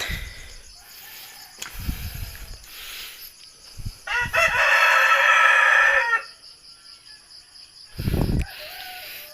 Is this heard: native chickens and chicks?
yes